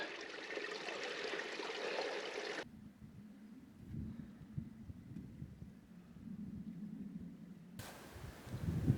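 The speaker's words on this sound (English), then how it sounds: "Water." Running water from a stream on Ingleborough in the Yorkshire Dales, a steady hiss and babble close by, with a stretch of quieter low rumbling before the rushing sound returns at the end.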